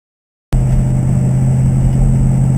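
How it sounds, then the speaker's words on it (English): A Vista Cruiser with a 200-4R automatic transmission driving on the road, heard from inside as a loud, steady engine and road rumble that starts abruptly and holds without talk. "Well, folks, we're on the road, shifting fine."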